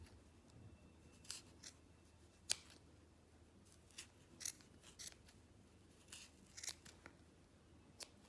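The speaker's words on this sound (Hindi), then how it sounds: "कैंची लेकर इसकी जो ये सेंटर है, यहाँ से हम सारे धागों को इस तरह से काटेंगे।" Scissors snip through the yarn strands at the center of a crochet pom-pom, a quiet, close series of irregular sharp cuts and crisp ticks with soft rustling between them.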